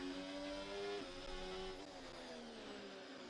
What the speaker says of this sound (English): Did they update the engine of the Ferrari? That sounds very different.